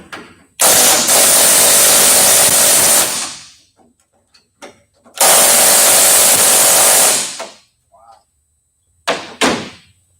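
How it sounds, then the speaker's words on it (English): A Snap-on Micro Lithium 3/8-inch cordless ratchet whirs loudly in two bursts of about two and a half seconds each, with short clicks and thunks between them, while working on an old Chevrolet Silverado during a bed swap. "I'm using the Snap-on micro lithium 3/8."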